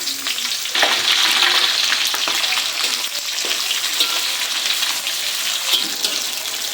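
Spice paste with cardamom and cinnamon sizzling and frying in hot oil, a steady crackling hiss with occasional stirring scrapes, close and continuous throughout.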